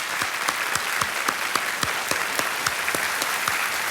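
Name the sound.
studio audience applause for Ishita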